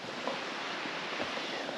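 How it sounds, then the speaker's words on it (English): Water rushes outdoors on public land in Montana during a spring bear hunt, a faint steady broadband wash with soft wind-like hiss and no talk. "you can hear birds chirping, water rushing"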